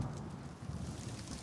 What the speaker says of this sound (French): On peut toujours essayer de l'ignorer, cette pluie.